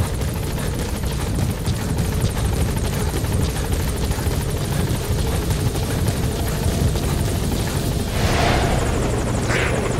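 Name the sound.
support helicopter arriving in video game Metal Gear Solid V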